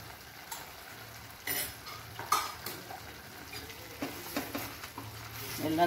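Ground coriander, chilli powder and garam masala stir-frying in water in a pan for chicken curry, a soft steady sizzle broken by spoon scrapes and utensil clinks against the pan.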